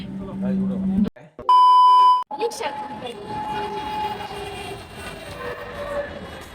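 A Dhaka metro rail train at Mirpur 10 station sounds a loud, steady electronic door chime for about a second. A low rumbling hum of the train and station follows, with murmuring voices around it.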